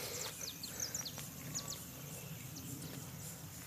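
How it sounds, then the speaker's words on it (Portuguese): Faint high chirps from small birds scattered over a steady outdoor hum, distant and light. "Aí tem uns passarinhos."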